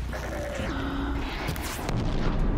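In Horizon Zero Dawn, an arrow strikes a flying machine: heavy booming impacts and crackling bursts ring out loud and close over a rumbling game soundscape, with a sharper blast late on.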